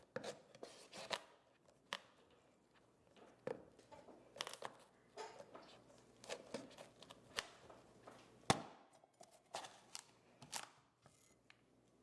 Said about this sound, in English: Place your knife in the crack and cut the squash in half lengthwise.